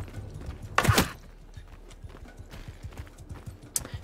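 Horse hooves clip-clop in a steady rhythm in the video game Mount and Blade II: Bannerlord, with one loud thudding impact early on and a sharp hit near the end.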